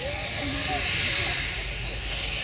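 Jet-powered outhouse roaring past at an airshow, a loud, steady, wide-band jet rush with a high whine running through it, filling the whole moment with no break.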